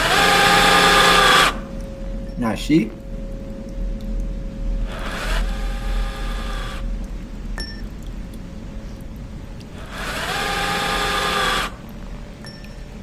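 Battery-powered drill driver in a horror video game, whirring in three loud bursts separated by quieter ambient stretches, with a brief clink in between and a short spoken question.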